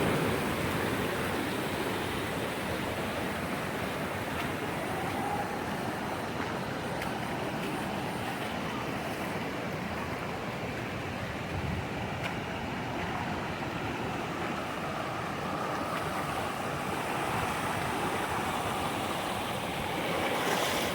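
The stream below Shiravane Waterfall in Jui Nagar, Navi Mumbai, rushes in a dense, constant roar that stays loud and even throughout, with no voices.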